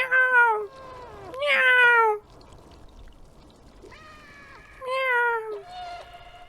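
Cat meows in the video game Stray, several distinct rising-and-falling calls in bursts with a faint echoing tail, fairly close and clear with no talk over them.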